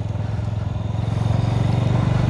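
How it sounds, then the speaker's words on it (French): A Mash 650 Six Hundred motorcycle engine runs close by with a loud, rapid, even thumping pulse that builds slightly in strength over the stretch, with no talking. "écoute le moteur. Tu vois, t'entends le moteur bien là?"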